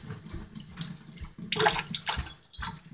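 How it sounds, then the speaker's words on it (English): Hands are washed under a running tap at a sink, with close splashing and gurgling water that shifts as the hands move through the stream, in a short, uneven burst. "let me just wash my hand from that"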